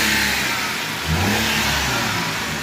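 A car engine is revved hard up close, rising from a low idle into a loud, climbing roar and then holding a strong, steady growl, with no voices over it.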